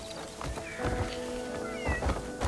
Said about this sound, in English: Lots and lots of cats.